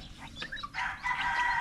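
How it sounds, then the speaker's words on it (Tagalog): A backyard chicken crows and clucks faintly at a distance, a drawn-out call standing over low outdoor background noise. "yung manok ayun na malaki na din"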